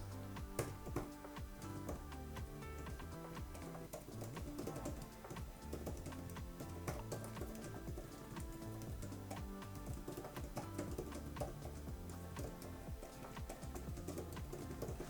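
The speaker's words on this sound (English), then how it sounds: "So let's now get to some typing as well." Rapid typing on an Apple Magic Keyboard for iPad, with dense, steady key clicks and taps running throughout at an even, moderate loudness and no talking.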